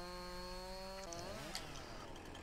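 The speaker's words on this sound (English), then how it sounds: "Or if I have to use chainsaw on it." A chainsaw revs and bites into a tree in Farming Simulator 19 on PS4, a steady buzzing drone that dips in pitch under load, then roughs up as it cuts through.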